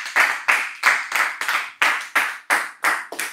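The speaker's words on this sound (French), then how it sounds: "Applaudissons pour Jésus." Church congregation clapping in a steady rhythm, about three claps per second, loud and close with no voices over it, during a service of intercessory prayer.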